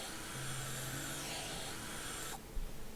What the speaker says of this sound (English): I've got a vacuum cleaner on my window now.